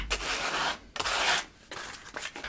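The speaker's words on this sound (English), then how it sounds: "I'm going to give these a quick sanding around the edges." Edges of Craftsman table saw inserts being sanded by hand: three long, steady rasping strokes close by with brief pauses between them, and no talking.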